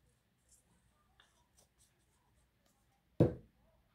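Glue being applied to card paper for a handmade scrapbooking vase card: faint, scattered scratchy rubbing strokes close by, then one sudden loud tap near the end that quickly fades, with no talking.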